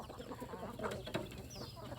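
Free-range village chickens, including red-faced breeding hens, clucking quietly on a farm, scattered short clucks and calls at a moderate distance amid faint ambient noise.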